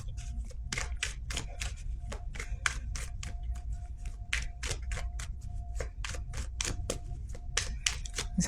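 Rapid, rhythmic riffling and flicking of playing cards, crisp repeated snaps close by with no talking.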